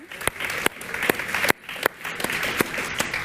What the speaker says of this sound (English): So round of applause for Clary.